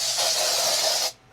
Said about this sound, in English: I'm gonna spray these flies